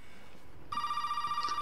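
A telephone rings in Resident Evil 7 on Xbox One S, starting abruptly as a loud, steady electronic trill that continues to the end.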